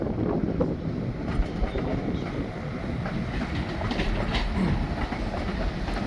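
Train moving through Shrewsbury railway station, a continuous rumbling roll with rattling wheel noise heard close and steady throughout, along with some wind buffeting on the microphone.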